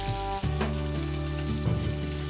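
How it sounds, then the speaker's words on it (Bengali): Hilsa fish with heads on frying in hot mustard oil, a steady loud sizzle that fills the whole moment, one brief dip early on, no voices. "তা আমি আজকে মুড়োগুলো আছে বলে একটু ভালো করেই ভাজছি।"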